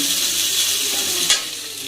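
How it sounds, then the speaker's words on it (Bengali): Snake gourd fries in a pan with a dense, bright, continuous sizzle and one brief louder spatter or stir near the end, close and without speech. "তাই তো মাছ রান্নার জন্য আগে চিচিঙ্গাগুলো ভেজে নিচ্ছি"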